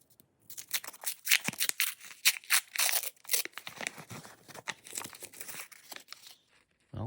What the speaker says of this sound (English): let's tear into it and see what I got